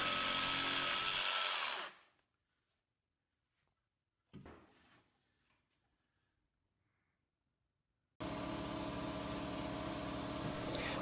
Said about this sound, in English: I'm just going to use a jigsaw to cut this out roughly and separate our leg from this giant piece of MDF